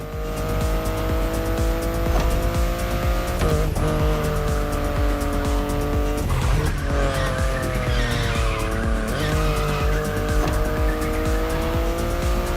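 A BMW i8 sports car drives hard and skids in The Crew Motorfest racing game, its engine droning steadily while tires squeal through repeated slides over a continuous, loud mix.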